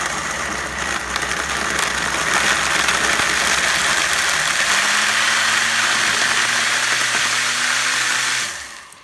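A blender motor whirs loudly and steadily as it blends frozen mango, starting low and speeding up, its pitch rising partway through before it cuts off near the end, heard alone and close.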